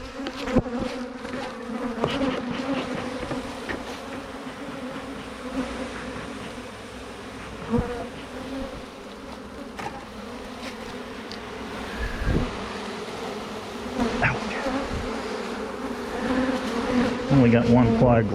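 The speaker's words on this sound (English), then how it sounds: "A lot of bees. A lot of bees, as you can see." Dense buzzing of a large swarm of honey bees around an open beehive, a steady close drone that fills the whole stretch, with small knocks and rustles from hive handling.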